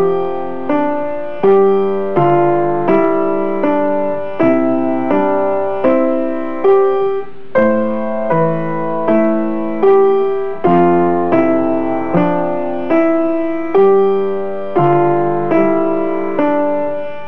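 Solo piano improvisation built on steady four-note runs over held chords, playing continuously at a moderate, even pulse with clear repeated note attacks and no voices.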